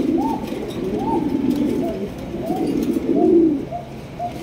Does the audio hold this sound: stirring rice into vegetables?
no